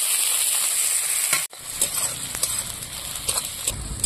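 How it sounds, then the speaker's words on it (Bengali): Chopped onions with bay leaf, dried chillies and whole cumin fry in hot oil for a sour tomato curry of mourala fish, a steady close sizzle with a brief dip and soft stirring clicks. "পেঁয়াজটা লাল লাল করে ভেজে নেব।"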